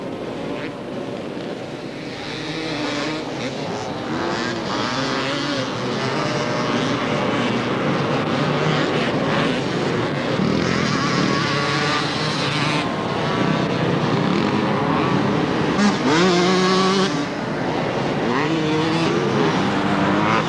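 Racing motorcycles, including 125cc machines, roar along Southport beach at a 1992 race, engines droning continuously with a rising whine as one bike passes close near the end.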